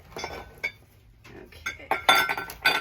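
Ice clinks and rattles against glassware while drinks are prepped for an Appletini cocktail, a series of close, bright chinks and taps in uneven bursts.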